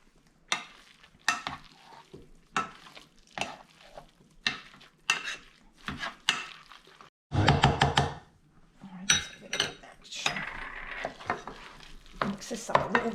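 A spoon stirs a fish cake mixture of cod, lobster and eggs in a bowl, giving close, irregular wet scrapes and clacks against the dish, with a short burst of faster mixing.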